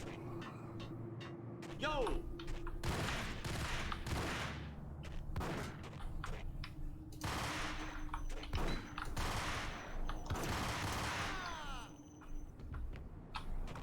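Ingram submachine gun fire in the Max Payne video game, heard as repeated loud bursts of shots with game sound effects, spread across the scene.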